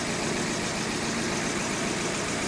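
A 2003 Hyundai engine idles with one injector disabled and a misfire, a faint, even, low hum that holds steady without any noticeable change.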